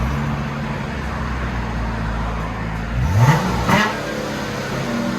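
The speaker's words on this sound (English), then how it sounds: "There's the stock mufflers that were on it right there that we cut off and replaced with the vibrants" Car exhaust fitted with a resonator delete and Vibrant mufflers, a steady low idle drone that rises into two short, loud revs around the middle before settling back to idle.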